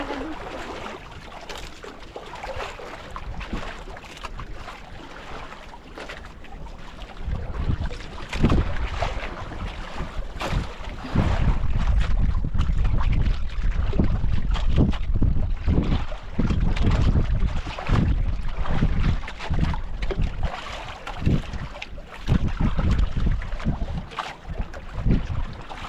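Sea waves slapping and rushing around a small fishing boat out at sea, with heavy wind buffeting the microphone and a continuous rough, loud wash of water that grows stronger partway through.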